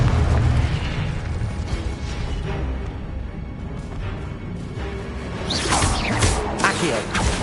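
Blasting spell explosions in the Hogwarts Legacy video game, dense bursts and booms layered over continuous game noise, with a sharp bright crackling blast near the end.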